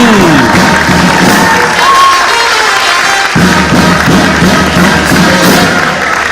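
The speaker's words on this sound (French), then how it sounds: "J'applaudis le collège Bonsomy." An audience at a school theatrical improvisation festival applauds and cheers in a hall, a dense, sustained wash of clapping that runs loud and steady throughout.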